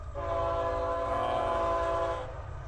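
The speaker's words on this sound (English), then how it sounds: "Alright, well, I guess we'll wait for this train to go by to finish." A train rumbles past close by, its drawn-out horn tone sustained over a low rolling roar, fading at the end.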